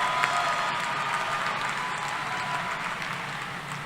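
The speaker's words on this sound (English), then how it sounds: "Let's give her a round of applause." University commencement crowd applauding, a steady, fairly loud wash of many hands clapping with faint cheers mixed in, continuous for about four seconds.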